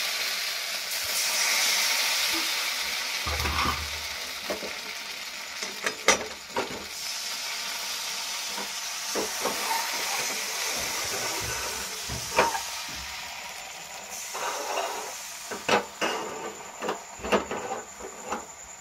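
Spices for a tempering hiss and crackle in a thin film of hot oil in a kadai, a steady broadband sizzle with scattered sharp pops and clicks throughout, fairly close and alone.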